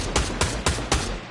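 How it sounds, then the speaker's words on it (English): Four evenly spaced gunshots ring out in Fortnite, loud and close, each a sharp crack with a short tail, over a constant low game-ambience rumble. "I'm already getting shot at."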